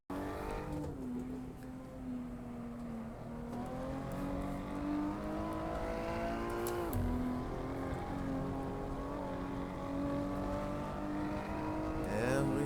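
Race car engine in the Assetto Corsa racing game on a world record lap attempt, a loud continuous drone rising and falling through gear shifts, with revving, a downshift dip near the middle and occasional tire noise.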